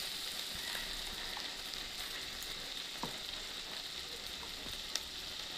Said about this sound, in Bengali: মশলাটা আমার কষানো হয়ে আসছে